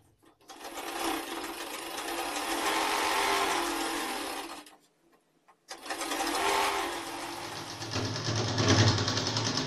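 A sewing machine runs in two long bursts, stitching the hem of a ladies' pajama pant leg, with a short pause between them; the motor whirs steadily and close by, with no one talking.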